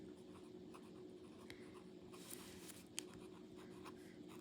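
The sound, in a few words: writing with a Myers fountain pen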